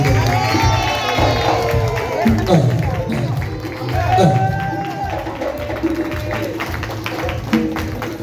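A church congregation at a tenth wedding anniversary celebration cheers and acclaims God in a loud, continuous crowd roar, with shouts and some clapping, while a voice calls out over it.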